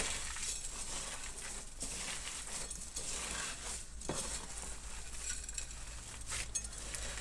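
A spoon stirs instant white rice into raw meatloaf mix for zucchini rolls, giving soft squelching, crunching and mushy sounds with faint clinks against the bowl in an uneven, repeated rhythm.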